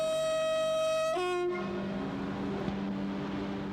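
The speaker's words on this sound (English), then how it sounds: "The Eurostar only appeared in 1994, yet this sleek international train is already a modern classic." Eurostar high-speed international train sounding a sustained horn tone that cuts off after about a second, followed by a steady rolling rail rumble as it runs past.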